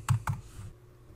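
Keystrokes on a computer keyboard while logging in, two sharp clicks close together near the start followed by a faint trailing tap, close and fairly quiet.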